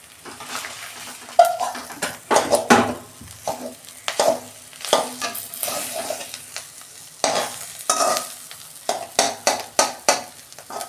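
A spatula cuts and scrapes through fried fish roe in a hot pan with the gas just switched off, giving a string of sharp, uneven metallic scrapes and taps over a light residual sizzle, close and fairly loud.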